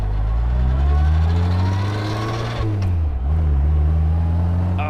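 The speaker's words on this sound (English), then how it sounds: "Hearing a BMC A-Series engine just pulling through the gears with this muffler is just fun." A BMC A-Series engine in an Austin-Healey project car with a slipping clutch pulls through the gears, its exhaust droning loud and steady with rising revs, a brief dip at each shift, and no talk.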